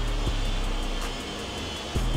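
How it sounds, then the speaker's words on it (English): Construction noise in the background, a continuous loud low rumble like heavy machinery with a few dull thuds, no talking. "I'm sorry about the construction."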